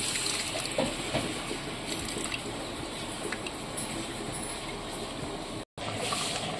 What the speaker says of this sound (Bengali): এবার তেঁতুলের জলটা একটু দিয়ে দেবো।